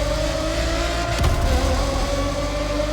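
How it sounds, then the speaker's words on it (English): A Bugatti Zonda F in The Crew Motorfest revs hard, a loud sustained engine drone with a rising surge midway, close and steady with no talking over it. "right now I'm driving the Bugatti Zonda F and this car sounds insane"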